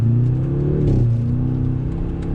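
A 2020 Jaguar F-Type with a 2-liter turbo four-cylinder engine and exhaust gives a steady, loud, close drone with a slight shift in pitch partway through, and no talking is heard.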